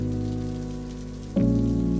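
Steady rain falling through a night scene in the video game Necrobarista, a continuous hiss over low sustained musical tones that swell louder near the end, with no voices.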